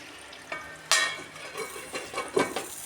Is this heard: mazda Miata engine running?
no